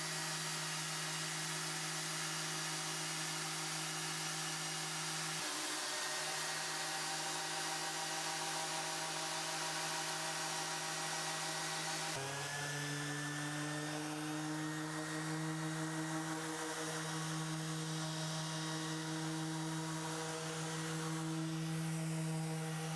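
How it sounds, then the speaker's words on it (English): Wooden kitchen tabletop being sanded at 120 grit with a power sander, giving a steady, continuous motor whine and abrasive hiss that runs the whole time, with the pitch shifting partway through; no voices. "I'm going to sand this down to with 120 grit"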